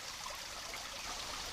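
Panther Creek headwaters trickling under rhododendrons in wilderness woods, a soft steady stream of water with continuous gentle babbling and no voices.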